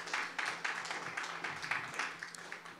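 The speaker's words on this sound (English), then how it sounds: "Yes, you can clap for that." Steady applause from a church congregation, dense continuous clapping with uneven swells, fairly close and moderately loud, lasting a few seconds without speech.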